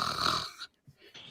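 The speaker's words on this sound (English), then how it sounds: "We can hear snoring again in a minute." Snoring in a quiet room at night: one loud, raspy inhaled snore with strong breathy hiss, followed by fainter breathing snorts trailing off.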